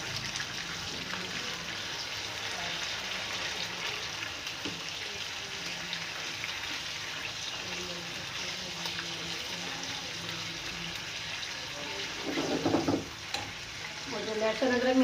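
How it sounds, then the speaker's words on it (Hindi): Chicken pieces fry in a pan for chicken korma, making a dense, steady sizzle that runs unbroken throughout, close and fairly loud, with a louder burst of hissing and stirring near the end. "और मैं इसको तब तक भूनूंगी जब तक कि चिकन का कलर चेंज नहीं हो जाता।"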